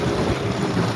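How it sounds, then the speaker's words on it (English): Steady wind roars across open water on a fishing trip, a continuous close rush of blustery noise buffeting the microphone. "That wind's coming in, man."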